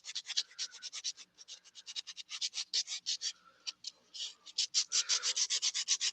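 Hand sandpaper rubs briskly back and forth over a carved wooden duck decoy, a close, dry scratching in rapid rhythmic strokes with brief pauses.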